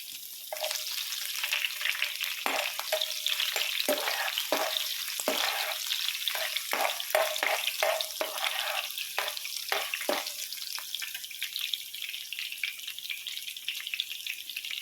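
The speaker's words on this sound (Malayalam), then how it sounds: "എണ്ണ ചൂടായിട്ടുണ്ട് ആദ്യമായിട്ട് ഇഞ്ചി ഇട്ട് കൊടുക്കാം" Ginger and green chillies fry in hot oil with a steady, close sizzle, broken by repeated sharp clacks of a spoon stirring against the pan through the first ten seconds. Nobody speaks.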